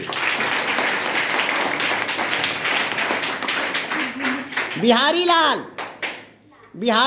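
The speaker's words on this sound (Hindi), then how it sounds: "तो हम विद्यापति के लिए ताली बजाएंगे" Applause for the poet Vidyapati at a World Hindi Day honours event, a dense burst of clapping for several seconds that thins out, followed by a few loud tonal tones and a spoken word.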